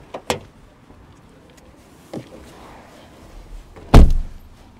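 The rear door of a Ford Escape Plug-In Hybrid clicks and thunks through a few separate close, sharp latch and handle sounds, ending in one heavier solid thump near the end.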